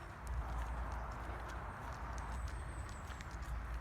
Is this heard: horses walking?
yes